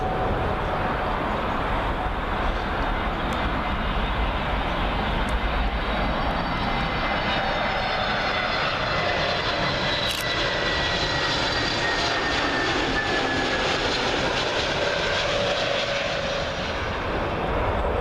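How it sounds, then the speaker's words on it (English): A British Airways Airbus A321neo passes low over houses on its landing approach to Heathrow's runway 27L, arriving from Madrid, a loud, steady jet roar with whining engine tones that persists for the full length. "coming over the houses now, here comes the British Airways A321neo"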